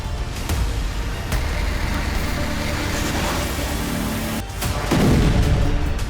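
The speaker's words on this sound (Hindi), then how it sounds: "तभी एक जोरदार धमाका हुआ और आग का गुबार नजर आया। यह रूस की मिसाइल का हमला था।" Russian missile strike on a residential area and market, heavy rumbling blast noise with a sharp burst partway through and a louder surge of roaring debris and rumble near the end.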